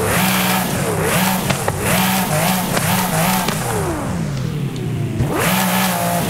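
A Mercedes SLS sports car in Forza Horizon 5 revs loudly and repeatedly, its engine note sweeping up and down in quick accelerations with brief tire squeals and no voices over it.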